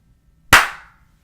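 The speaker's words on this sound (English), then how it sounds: "Let's just give it a simple test with a hand clap" A single sharp hand clap rings out close and loud in a quiet room, with a short decaying tail.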